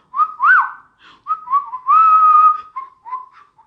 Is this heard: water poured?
no